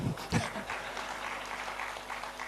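Applause from an audience at a Hindi poetry recital, a dense patter of clapping that holds steady throughout with a few louder bursts near the start.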